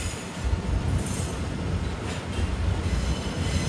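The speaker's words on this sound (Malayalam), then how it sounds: "ട്രെയിൻ ഇതാ റിവേഴ്സ് ചെയ്ത് വരികയാണ്." A KTM Class 25 intercity train reversing on a Malaysian line gives off a steady, fairly loud rumble of rolling stock, with faint wheel squeal. Brief hiss bursts rise over a continuous low drone, and no voices are heard.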